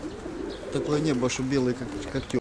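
Pigeons cooing during daily flights, low repeated coos carrying under someone talking outdoors.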